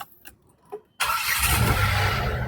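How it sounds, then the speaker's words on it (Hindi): A Renault Triber's engine cranks and catches after a few faint clicks, then settles into a steady idle, recorded close up. "मैं स्टार्ट कर लेता हूँ गाड़ी"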